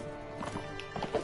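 Horse hooves in Mount & Blade: Warband, a quick run of faint clip-clop beats over a low game background, ending in a couple of slightly louder hoof strikes.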